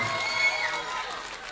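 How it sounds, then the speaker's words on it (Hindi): Audience at a live poetry recital (mushaira) breaking into crowd noise with cheering and whoops as a woman poet is welcomed on stage, a dense, steady wash of voices and hands that eases slightly toward the end. "जोरदार तालियों से इस्तकबाल कीजिए"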